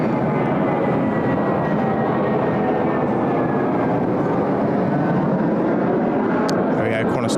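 Qantas 12, an airliner taking off at Sydney Airport, fills the air with a loud, continuous engine roar that builds steadily throughout, while someone talks over it.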